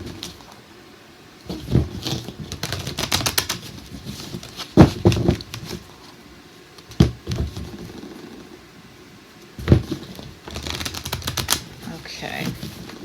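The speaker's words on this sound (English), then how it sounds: "let's shuffle these again" Tarot cards riffled and shuffled in several bursts of quick, crisp flapping, with quieter pauses between them, close by.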